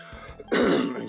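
A single close, raspy throat clearing from one person, a short guttural burst after a faint lead-in, with no talk.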